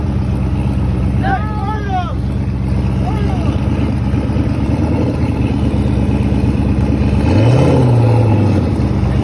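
A Chevrolet Camaro engine runs loud and continuous at a burnout event, with a rising rev swell near the end, while crowd voices chatter over the steady engine drone.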